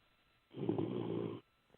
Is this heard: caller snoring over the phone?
yes